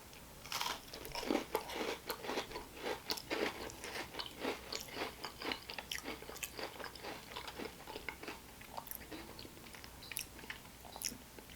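A chocolate-shell Oreo cookie is bitten and chewed with loud, steady crunching close up for several seconds, the crisp shell cracking in rapid repeated bites without any speech.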